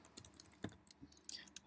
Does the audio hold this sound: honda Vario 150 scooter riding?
no